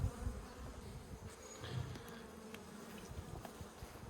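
Honey bees buzzing at an open beehive, a steady close drone of many insects with individual bees passing near the microphone, no talk.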